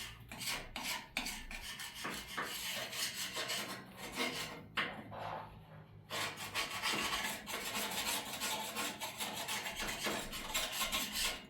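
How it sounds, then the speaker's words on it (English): A wood chisel scrapes grime off the radiator of a Dodge D250 truck, giving a steady, close, gritty rasping that runs continuously with short strokes and no talking. "I don't have any fancy scrapers, but I got some wood chisels. Seems to be scraping just fine."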